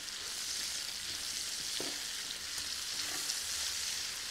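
Bacon fries on a disco, a plow-disc griddle, with steady sizzling and crackling that stays at an even level the whole time. A few faint stirring clinks sound underneath.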